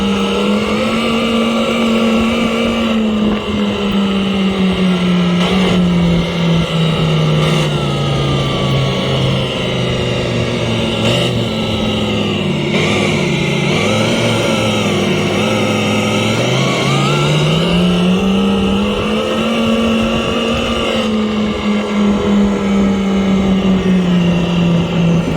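A Segway Ninebot GoKart Pro's speaker plays a simulated engine, a loud, continuous synthetic roar whose pitch dips and climbs again like gear changes over about 25 seconds.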